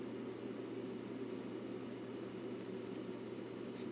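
A quiet Bitcoin mining rig running at about 57-60 decibels, giving a steady, even fan hum with low tonal drone, continuous and unchanging throughout with no talk.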